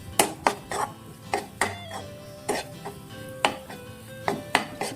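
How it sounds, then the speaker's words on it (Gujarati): A spoon clinks and scrapes against a metal pan in an uneven rhythm while Gujarati lapsi, a semolina sweet, fries faintly in ghee underneath, close and fairly quiet. "હવે આપણે એને ઘીમાં તળી લઈશું."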